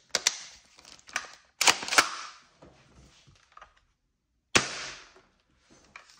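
Shells being loaded into a Tokyo Marui SPAS-12 airsoft shotgun, heard as a few sharp, close mechanical clicks and snaps spread over several seconds, with quiet gaps between them.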